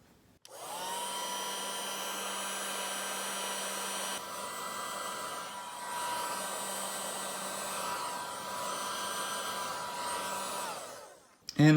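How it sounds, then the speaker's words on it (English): Heat gun blowing hot air onto heat shrink tubing on a MacBook MagSafe charger wire, a loud steady blower whoosh with a whining motor tone that starts abruptly, holds for about ten seconds, then cuts off. "So let's see, let's get out our heat gun."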